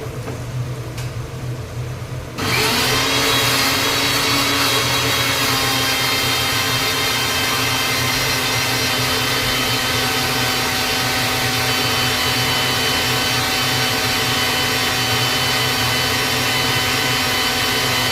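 A mixer grinder whirs loudly as spices are ground into a paste, starting abruptly after a short stretch of quieter kitchen sizzle and then holding a steady, dense motor roar to the end.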